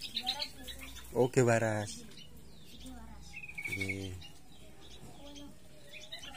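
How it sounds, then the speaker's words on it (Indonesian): Many birds chirp and tweet around a Javanese village, with scattered calls beneath people talking close by. "Ini burungnya juga banyak banget ini ya."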